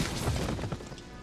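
An explosion in a war film gives a loud, broad blast with a crashing, rumbling burst that fills the short moment and then slowly eases off.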